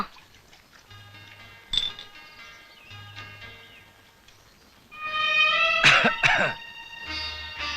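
A man in a tea-shop scene coughs in harsh, throaty bursts, one early and then a rough louder fit of several coughs near the end, heard close against a quiet background.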